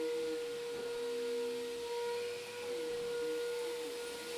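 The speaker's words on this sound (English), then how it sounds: "The vacuum just, you know, sometimes it comes to life." A vacuum cleaner runs steadily in the background with a constant whine and broadband hiss, holding at a moderate level throughout with no talk over it.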